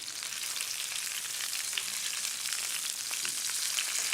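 A ribeye steak sears in a hot pan just after being turned, giving a steady, dense sizzle that stays loud and even throughout, with no voices.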